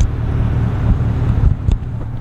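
Chevrolet C8 Corvette with a Paragon Performance exhaust, recorded outside the car: a steady deep exhaust rumble close by, with some wind buffeting the microphone.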